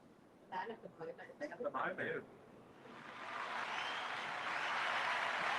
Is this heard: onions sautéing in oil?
no